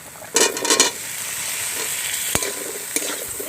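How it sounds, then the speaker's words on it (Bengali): Cut potatoes hit hot oil in a pan while cooking a spicy river fish curry, a loud burst of sizzling and stirring at first, then a steady frying hiss with a few scrapes and clinks, no voices. "এবার কেটে রাখা আলু দিয়ে দিচ্ছি।"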